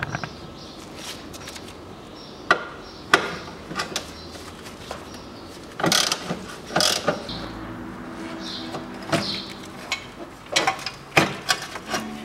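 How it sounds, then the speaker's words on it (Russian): Ratchet wrench removing the battery tray bolts on a 2000 Nissan Serena PC24, heard as scattered metallic clicks, taps and clunks in short irregular bursts, fairly close, with no talk. "Ну и откручиваю площадку аккумулятора. 4 болта,"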